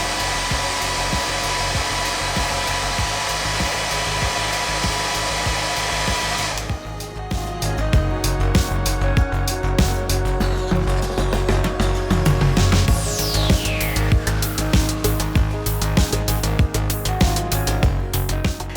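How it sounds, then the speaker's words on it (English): A heat gun blows hot air steadily onto an RC car body mask, its motor and airflow forming a loud, continuous whine and rush that sharpens and intensifies partway through. "I use a heat gun and a squeegee to form over curves."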